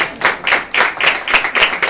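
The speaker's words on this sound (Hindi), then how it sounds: "तालियां बजाएं इनके लिए" A small audience claps in a quick, fairly regular rhythm, a handful of hands striking together in distinct bursts, close and moderately loud with no talking.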